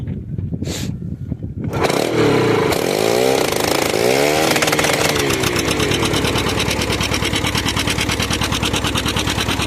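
A small engine on a potato-planting job in a rural yard sputtering into life after a pull, then revving up and settling into a loud, steady, close buzzing idle that fills the rest of the sound.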